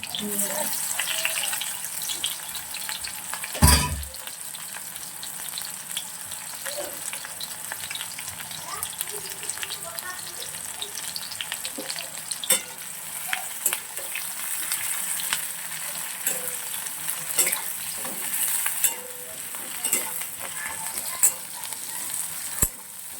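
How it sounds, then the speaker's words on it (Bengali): Onions dropped into hot oil, a loud crackle at the start settling into a long steady sizzle with occasional stirring clatter, while people speak in the background. "এখন পেঁয়াজগুলো সব দিয়ে দিলাম"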